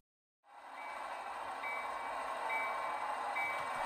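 After a moment of silence, a DCC-controlled model train rolls by with a steady rumbling, hissing roar that holds level, and a faint tone repeats now and then.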